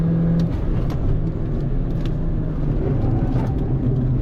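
A 2013 Mini Cooper GP on a fast track lap, its engine a loud, steady low drone heard from inside the car with little change in pitch and no talking.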